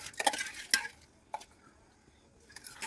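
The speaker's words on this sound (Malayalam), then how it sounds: "ഇനി അരി കഴുകി അതിലിട്ട് ഇട്ട് കൊടുക്കുക" Washed rice tipped into a pot of boiling water on a kitchen stove, a few short clattering splashes near the start and another brief one later over quiet background.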